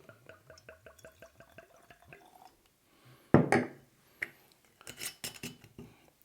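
Old Forester Kentucky straight rye whiskey poured from a bottle, a short glugging splash following a series of small rhythmic ticks, then a few clinking glassy knocks.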